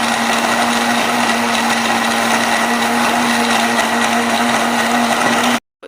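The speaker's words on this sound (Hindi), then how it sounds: "हम इसे अब ग्राइंड करेंगे" A blender grinds bananas into a drink, a loud steady motor whir with a strong hum that runs unbroken for over five seconds, then cuts off abruptly.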